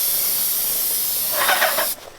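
A paint sprayer hisses steadily while spraying stain onto a wooden fence, a loud continuous spray that carries on without pause before cutting off abruptly near the end.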